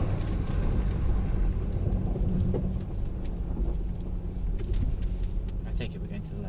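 A Mercedes GLE driving at moderate revs, its engine a low steady rumble inside the cabin with faint rattles and clicks, while people talk quietly over it.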